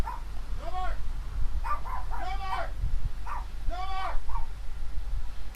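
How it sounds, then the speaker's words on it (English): Several dogs barking and yipping in short clustered bursts, somewhat distant, over a low steady hum, with a voice talking over them. "Ignore, that's my dogs."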